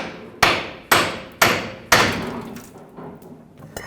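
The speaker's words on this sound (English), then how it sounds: "just use a hammer and tap it free" Hammer tapping a steering knuckle free from its ball joint on a 1996-2002 Toyota 4Runner during front CV axle replacement: four evenly spaced, ringing metallic strikes close by, followed by a few fainter knocks.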